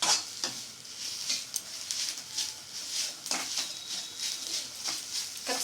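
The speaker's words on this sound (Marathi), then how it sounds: "खरपूस भाजून घ्यायचं बेसन चांगलं." Besan (gram flour) roasting in oil in a pan on low heat, stirred with a spatula in repeated scraping strokes over a soft steady sizzle, close and moderately loud.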